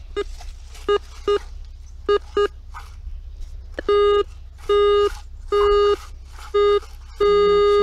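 Electronic beeps of a metal detector near a river in Michigan, a few short double chirps and then longer sustained tones, close and loud over a low background hum.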